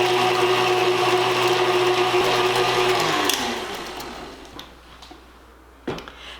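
A kitchen blender whirs loudly and steadily as banana bread batter with an egg is mixed, then the motor winds down and stops, leaving faint clinks and a brief knock.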